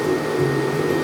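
Arc welding iron to iron while building steel furniture, heard as a steady, loud, close buzzing hiss with a low hum that runs unbroken through the whole moment.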